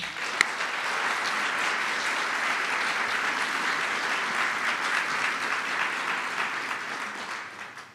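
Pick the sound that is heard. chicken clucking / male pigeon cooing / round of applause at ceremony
round of applause at ceremony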